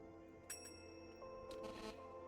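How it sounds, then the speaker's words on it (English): A small bell chimes in two brief rings as wind blows past it, set in a fantasy tabletop role-playing scene over a steady low ambient bed, with no voices. "As a small bell just chimes"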